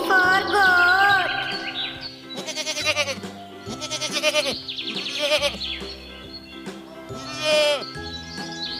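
A goat bleats in a few wavering calls over bright, steady children's song music.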